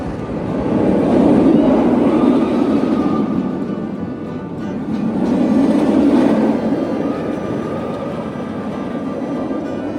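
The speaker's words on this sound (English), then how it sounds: "Just got off of Batman the Ride, and it was running pretty well actually" A roller coaster roars steadily on Batman the Ride at Six Flags Over Texas, a loud continuous rumbling rush that swells twice, heard close and alone with no talk.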